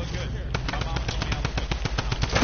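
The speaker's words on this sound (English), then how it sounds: "He has a minigun." Minigun fire in a video game: a loud, rapid, unbroken stream of shots with a regular pulse, layered over players' voices.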